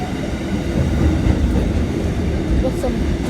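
Freight train passing Auburn station in New South Wales, a steady, loud low rumble of wagons rolling by throughout, close and continuous with no pauses.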